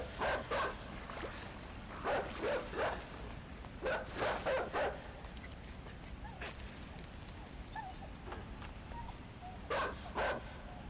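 A dog barks in the side-scrolling game Inside, with short bursts of two or three barks recurring several times at moderate distance over quiet, murky ambience.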